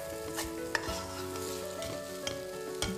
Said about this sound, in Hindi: धीमी आंच पे चावल को भूनिए